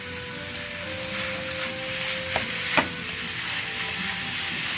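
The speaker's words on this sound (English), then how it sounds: "So the ground beef is all fried down" Ground beef frying in a pot, a steady close sizzle and hiss with a couple of brief clinks of a utensil against the pot partway through, no talking.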